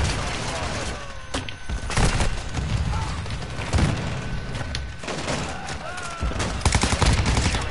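Gunfire in a first-person shooter video game, repeated sharp shots and bursts scattered through a dense, loud battle ambience with booms and thuds.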